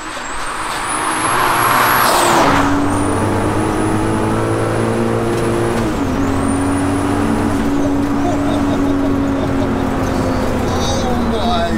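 A turbocharged, R32-swapped, carbon-bodied 900 kg Mk1 Golf is driven hard. Its engine roars loudly and steadily, with pitch climbing and dropping through gear changes and a high turbo whistle on top, while voices talk excitedly over it.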